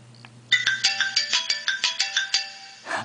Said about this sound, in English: You have to push the home button to turn it on.